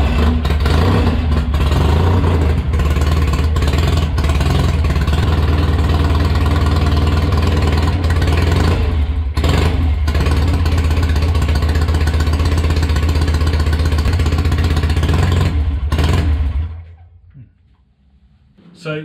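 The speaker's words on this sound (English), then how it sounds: "I think we should just fire it up again and listen to it run for a little bit" A rebuilt Triumph 650 motorcycle engine, restored from rust, runs close by with a loud, steady idle and occasional revs, then shuts off near the end.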